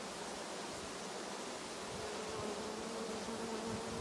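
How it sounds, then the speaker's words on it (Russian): A swarm of honeybees gathered in September gives off a dense, continuous buzzing drone that fills the air evenly from start to finish, close and steady, with no voices. "Вот, если видно, он по центру сгущается, этот рой."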